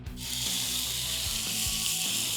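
Seasoned fish fillets frying in hot oil give a steady, close hiss and crackle that swells just after they go in and then holds evenly.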